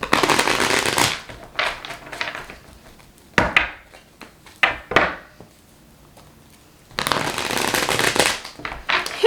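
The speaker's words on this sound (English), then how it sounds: "just recently I've been able to shuffle it with like the full tarot deck because it's just so like stiff" Riffle shuffles of a stiff tarot deck, with dense fluttering bursts at the start and end separated by several sharp card taps and quiet pauses.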